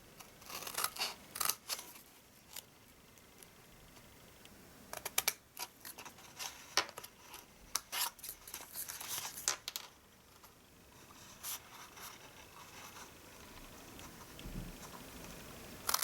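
Scissors snipping through card while making a treat box bottle holder: a run of close, crisp cuts in irregular bursts, dense early on, then sparser snips and quieter handling toward the end, with no talking.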